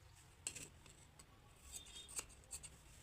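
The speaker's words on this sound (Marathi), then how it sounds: "तर आता यातून मी हुकपट्टीसाठी पण एक पट्टी कापून घेते" Scissors snipping through a strip of blouse fabric being cut for a hook band, a few soft, quiet crisp snips spread irregularly over a few seconds against a low room hum, no talking.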